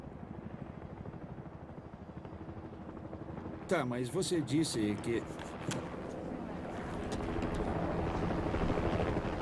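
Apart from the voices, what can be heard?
helicopter flying overhead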